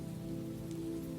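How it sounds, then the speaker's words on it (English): Steady evening rain falls onto a surface, a dense continuous patter that stays even and close throughout with no voices. "Evening rain"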